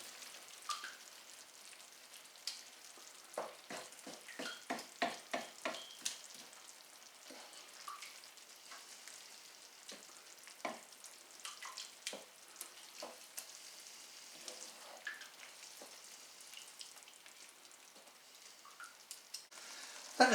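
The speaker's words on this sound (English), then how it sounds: "I will cover this pan and just let it simmer." Spaghetti bolognese sauce simmering in a pan gives a quiet, irregular bubbling with soft pops and small crackles, close but faint, with clusters of louder blips now and then.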